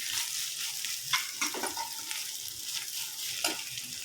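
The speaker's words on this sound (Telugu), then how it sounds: "అల్లం పేస్ట్ వేసాక ఇలా బాగా కలుపుకోవాలి" Ginger paste stirred into beaten eggs sizzling in a hot pan, a steady frying hiss with occasional spoon scrapes and clicks, close and fairly loud, no voices.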